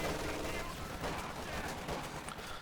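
Machine gun fire from an MG42 in the Company of Heroes 2 video game, a dense sustained rattle of bursts with crackling shots layered over rumbling battle noise throughout.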